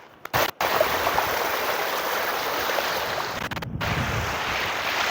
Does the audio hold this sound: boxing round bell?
no